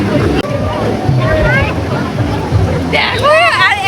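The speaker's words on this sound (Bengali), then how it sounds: "দেখো আর এখন আরো বড় বড় ঢেউ আসছে।" Sea waves wash and surge at the beach at Digha, a steady roar with wind buffeting the microphone, while people talk and shout excitedly over the surf.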